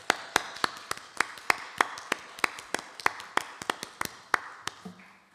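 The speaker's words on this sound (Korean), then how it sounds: "이 부부를 위해서 우리 한번 축하 박수 하겠습니다" A church congregation at a Sunday service claps to congratulate a newlywed couple. Crisp claps fall in a steady, even beat, a few per second, close and clear for about five seconds before stopping.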